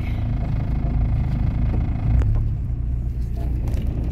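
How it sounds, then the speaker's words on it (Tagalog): Steady low rumble of slow road traffic in a jam, engines idling and creeping along close by, with a brief louder passing swell midway and no talk. "Medyo guys traffic. Ayan, traffic."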